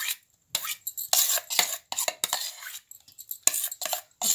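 A spoon stirs and beats cream in a bowl to churn homemade butter, producing irregular clinking and scraping strokes, close and fairly loud, with short pauses between bursts.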